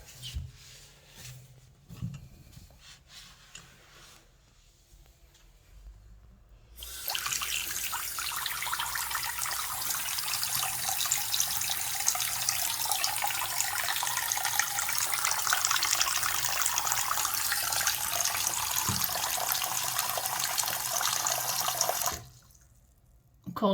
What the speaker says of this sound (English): And we've got running water.